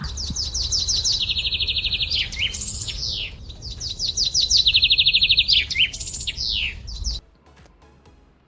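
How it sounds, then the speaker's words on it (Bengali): A myna bird calls continuously in repeated bursts of bright, rapid chattering notes and whistles, close and loud, before stopping abruptly near the end. "ময়না ময়না পাখি বলে কথা"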